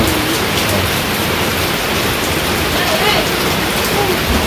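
Steady rain falling on a village home, a loud unbroken hiss of drops close by throughout.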